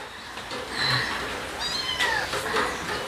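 A cat meows a few times, fairly close, with faint outdoor background noise, on Wakenaam Island in the Essequibo River, Guyana.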